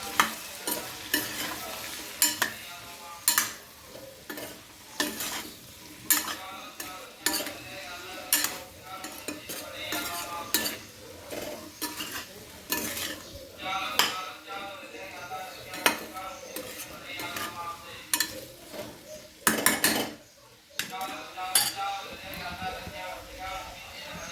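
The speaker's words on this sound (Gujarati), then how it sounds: "હવે બધો મસાલો નંખાઈ ગયો છે આપણે હલાવી દઈશું" Spoon scraping and stirring raw mango curry with Kashmiri red chilli and spices in a pan, repeated clanks and scrapes over a soft sizzle, with a person talking throughout.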